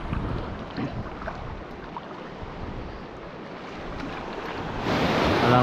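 Waves break and wash at the shore of a coastal fishing spot in a loud, continuous rushing roar, with wind buffeting the microphone and the surge swelling louder near the end.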